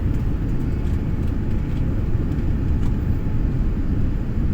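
Inside an airliner cabin while it lands in Mexico, a steady low roar of engine and airflow rumbles continuously, with no voices over it.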